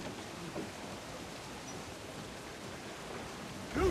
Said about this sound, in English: Can't go down below because high waves and storms.